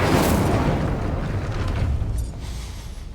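An Incendio fire spell bursts in Hogwarts Legacy as a loud, roaring blast of flame that surges at once and then tails off over about three seconds, heard alone without talk.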